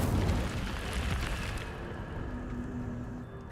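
Incendio fire spell cast in the Hogwarts Legacy video game, a loud fiery whooshing burst that surges at the start and slowly dies away over a few seconds.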